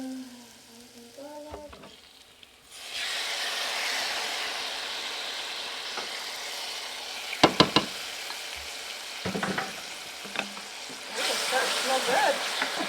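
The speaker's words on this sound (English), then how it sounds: "And the red peppers are sizzling" Red peppers sizzle in a hot pan, a steady loud frying hiss that starts abruptly and continues, broken by a few clinks of utensils and brief speech.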